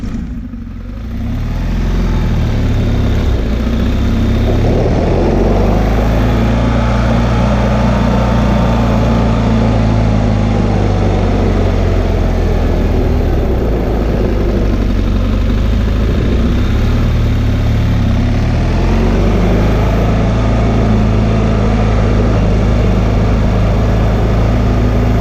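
A motorcycle engine runs steadily during emergency braking practice, rising and falling in pitch as the throttle opens and rolls off, close and continuous for the whole stretch.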